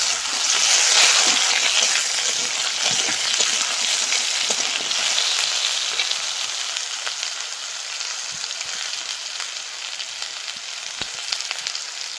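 Potatoes drop into hot oil already crackling with dried red chilli, five-spice (panch phoron) and whole mustard seeds, producing a loud, close, steady hiss of frying that eases slightly over time.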